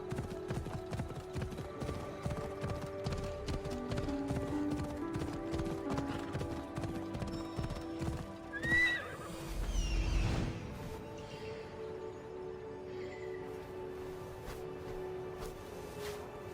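A horse in the video game Assassin's Creed Odyssey gallops with rapid rhythmic hoofbeats throughout, and a whinny rises briefly in the middle over background music.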